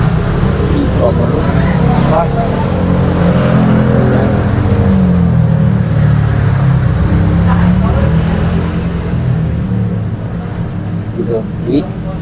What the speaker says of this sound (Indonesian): Karena kita lagi ada di toko pinggir jalan, suara-suara Motor lewat.